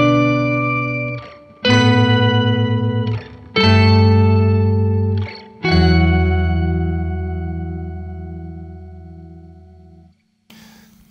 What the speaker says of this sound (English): super simple octaver